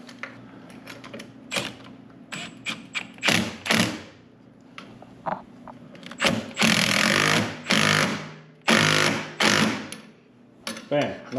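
A Ski-Doo Gen 5 ice scratcher is tightened into place on a snowmobile with close mechanical ratcheting clicks and metallic knocks, followed by louder grinding bursts toward the end.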